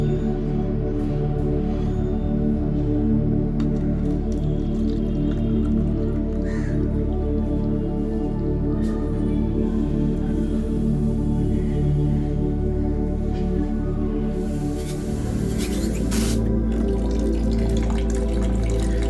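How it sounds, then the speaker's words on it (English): Water steadily filling a container in a pipe experiment, a continuous dense trickling and splashing flow, close and fairly loud, with a brief brighter splash near the end. "I'm filling it up with water."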